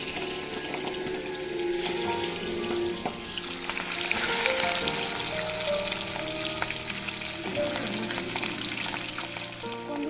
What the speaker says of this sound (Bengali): এই মাছটা ভাজতে দিয়ে চলে যাবো